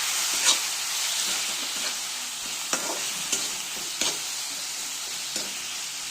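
Chopped tomatoes fry with ground spices and salt, giving a continuous hissing sizzle with occasional sharp clicks of a stirring spoon against the pan.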